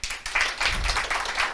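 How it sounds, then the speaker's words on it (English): Audience clapping for a speaker after a talk on affective computing, a short burst of moderately loud applause with individual claps audible in the wash. "a round of applause."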